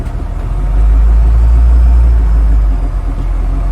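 A 5.7 Hemi Jeep Grand Cherokee rolls along at a salvage yard auction, its engine giving a loud, deep, steady rumble that swells and settles over a few seconds, with no one talking.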